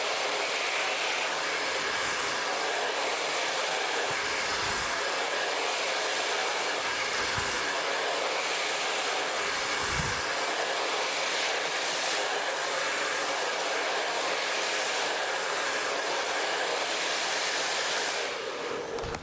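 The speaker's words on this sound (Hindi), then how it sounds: "रूट पे काफी केयरफुली ड्रायर करना है" A handheld blow dryer runs steadily on curly hair at a salon, a continuous broadband whoosh close to the mic with brief dips as the dryer moves along the roots and lengths.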